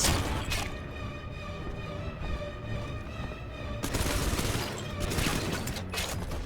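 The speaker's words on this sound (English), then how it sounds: "This will also give us an opportunity to test out the third upgrade of the machine gun." Machine gun with its third upgrade firing in Bioshock 2, sustained dense rattle running almost throughout, close and loud, with a heavier surge of impacts in the latter half over droning game ambience.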